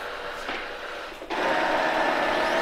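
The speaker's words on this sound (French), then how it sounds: "Il sort de sa station de recharge et d'autovidage." Eureka E10s robot vacuum pulling out of its self-emptying charging dock, a steady broadband whir that jumps louder partway through and holds, close by with no talk.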